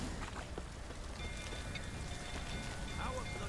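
Steady rain falls in The Witcher 3, a dense, even hiss of drops pattering on surfaces that holds constant throughout, with faint background tones.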